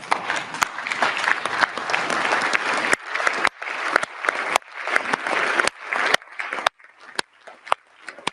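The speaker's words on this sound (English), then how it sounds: "please stand and applaud for our Ukrainian colleagues" A standing European Parliament chamber applauds at length, a loud dense roar of many hands broken by sharp close transients. It thins into patchier, more scattered clapping toward the end.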